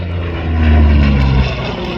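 A Second World War-era propeller aircraft with a radial engine at the Tocumwal air show gives a loud, near, low droning hum that swells to a peak and then eases off slightly. No one speaks.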